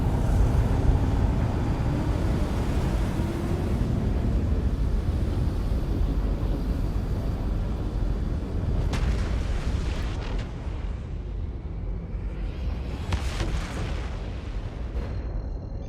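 A spaceship's jump in the Star Citizen game, aboard an RSI Apollo Medivac with full power routed to the engines: a heavy, continuous roaring rumble that holds steady, then surges with two sharper whooshing bursts toward the end.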